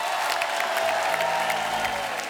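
Studio audience at a comedy talk show gives loud, sustained applause with scattered cheers, filling the whole stretch while music plays underneath.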